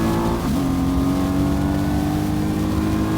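A Mercedes-Benz SLR McLaren 722 in the racing game Real Racing 3 holds a loud, steady engine drone, the pitch dipping briefly then settling into a sustained high rev, close and unbroken with no talk.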